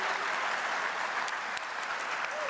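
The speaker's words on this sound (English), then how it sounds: "They're clapping for you, Jacques." Audience applause fills a press conference introducing LSU's new men's basketball coach, a steady wash of clapping at moderate distance that holds evenly for a few seconds without any talk over it.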